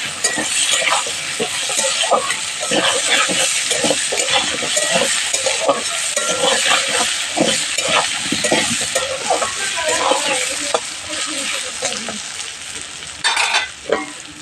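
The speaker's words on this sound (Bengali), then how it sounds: "এবং কিছুটা লবণ দিয়ে দেবো ভালোভাবে সর্ষের সঙ্গে আলুটাকে ভেজে নিতে হবে" Potato pieces fry in a pan with mustard seeds, turmeric and salt, sizzling loudly and continuously up close. Repeated scraping and stirring strokes cut through the hiss, and no one speaks.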